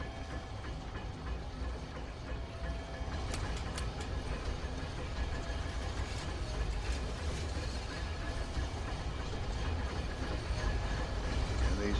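An elevator mechanism in the video game Skyrim grinds and rumbles steadily with clanking, ratcheting gear noises, a continuous mechanical drone throughout, moderately loud and alone.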